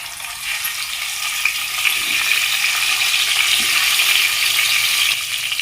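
Boiled eggs fry in masala oil with turmeric and salt, a steady broad sizzle filling the pan throughout, with a few faint knocks as the pan is shaken, no talking.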